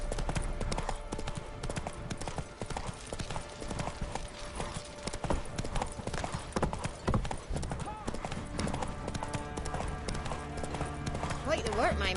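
Roach, Geralt's horse in the Witcher 3 video game, gallops with steady, close clip-clopping hooves through most of the stretch, mixed with game music and ambience, and a voice talks over it.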